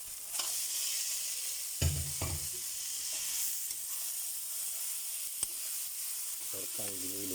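Ground meat sautés in a pan with a steady sizzle. Scraping and stirring strokes from a utensil break through the sizzle now and then, with a faint voice in the background.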